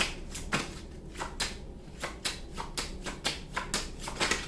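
Tarot cards handled and shuffled, a series of quick papery riffles and slaps repeating roughly every half second, close and fairly quiet with no talk.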